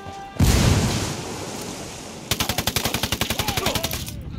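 Automatic weapon fire in Ghost Recon Wildlands, opening with a loud boom followed by a rapid, evenly spaced burst of close gunshots that runs to the end.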